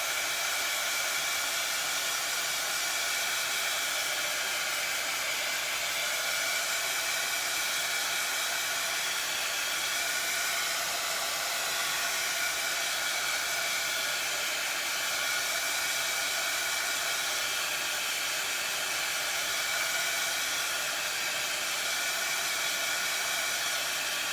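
A hair dryer blows steadily on a homemade Dollar Tree pizza pan craft, a constant close, loud whooshing roar with no pauses and no talking.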